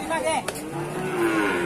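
A cow moos loudly and close by at a cattle market in Sokaraja, Banyumas, where cattle are sold for Eid sacrifice, a single drawn-out low call with a faint clatter mixed in.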